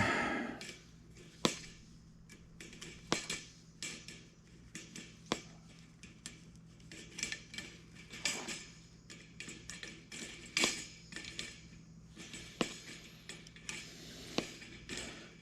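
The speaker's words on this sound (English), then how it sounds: "Dealing with a crescent wrench is not always the best thing to use, but that's what we're doing." A crescent wrench tightening an electrical connection on an electric furnace, producing repeated faint metallic clicks and taps at an uneven rhythm over a quiet background hum.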